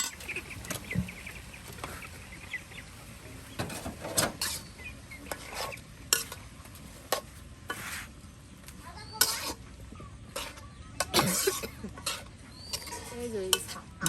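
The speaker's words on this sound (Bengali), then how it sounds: "আর এটাকে এখন ভালো করে মিক্সড করে নেওয়া হবে" Chili and salt get stirred into greens in a rural cooking pot with a spoon, giving irregular scraping, rustling and clinking strokes close by, while distant chickens cluck now and then and a voice talks faintly.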